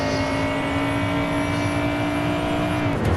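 A Camaro ZL1 at full throttle in the Real Racing 3 racing game gives a loud, steady engine drone that holds a sustained tone throughout with no pause and no voices.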